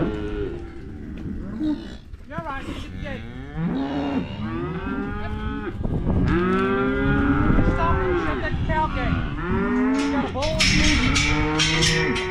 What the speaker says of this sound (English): These are the big bulls and the big heifers.